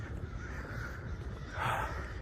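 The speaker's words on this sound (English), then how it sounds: "Listen to those crows cawing" Crows caw somewhere outdoors, a faint, distant call rising briefly near the end over a steady low background rumble.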